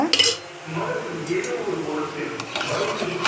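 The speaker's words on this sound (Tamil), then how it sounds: "இப்போ வந்து தோசை மாவு மிக்ஸ் பண்ணிக்கலாம் கெட்டி பதத்துக்காக" Thick dosa batter being mixed in a vessel, with clinks and scrapes of a utensil against the pot in a home kitchen, moderately close and continuous under a speaking voice.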